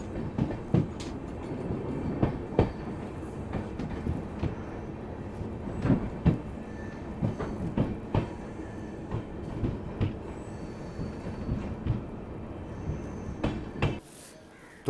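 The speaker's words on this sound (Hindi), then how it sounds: "और इसी हल्की सूरज की लालिमा के साथ अपना अराइवल हो रहा है रामदेवरा रेलवे स्टेशन पे" A passenger train rolls into Ramdevra railway station, heard from inside, with a rhythmic series of wheel thumps and carriage clunks over a low rumble that slows before stopping abruptly near the end.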